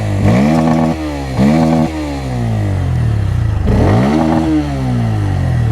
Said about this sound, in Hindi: उसका आप एग्जॉस्ट नोट सुनिए तो आपको समझ में आएगा